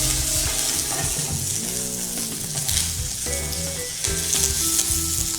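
Dry red chillies for a tempering crackle and sizzle in hot ghee, a loud, dense, continuous frying hiss with soft music playing underneath.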